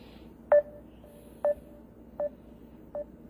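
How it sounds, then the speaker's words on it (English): A phone keypad dials out a call: four short electronic tone beeps, evenly spaced about a second apart, each clear and distinct over a faint, steady background hiss. "Let me call her back."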